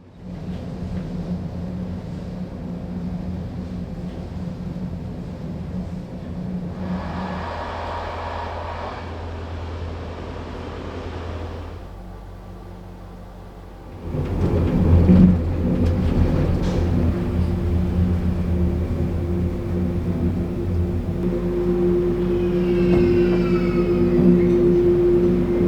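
Passenger train on the Silva Nortica service between Vienna and Prague, running non-stop: a steady low rumble of wheels and carriage with rattles and clunks, growing louder and busier partway through, with a faint high squeal near the end.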